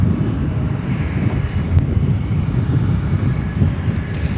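A Qatar Airways Boeing 777-300 arriving from Doha lands on runway 10 Left at O'Hare, a distant, steady jet rumble with wind noise on the microphone.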